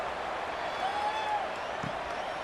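Steady wash of stadium crowd noise in College Football 26 during a Virginia at Duke game, a broad cheering roar with scattered clapping that holds at an even level for the whole stretch.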